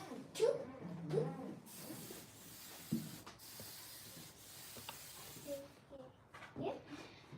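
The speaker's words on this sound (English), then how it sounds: "Got a little holding spray." A few short hissing bursts of hair holding spray on dreadlocks, soft and close, mixed with quiet rustling and handling noises.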